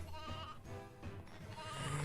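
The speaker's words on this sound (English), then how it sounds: "We have another sheep right there." A sheep bleats in the Toy Story 2 video game, with a few short, wavering calls over a quiet background.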